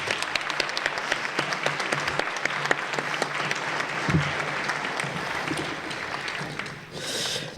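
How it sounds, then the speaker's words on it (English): An audience at a middle school National Junior Honor Society induction ceremony gives sustained applause, many hands clapping in a dense, steady patter heard from within the room. "Round of applause, please."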